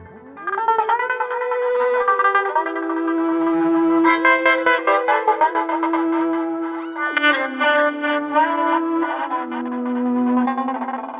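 A three-stringed, violin-like instrument played through effects units gives sustained, layered, spooky tones with distortion, echo and chorus. Pitches shift over about eleven seconds, and there is no talking.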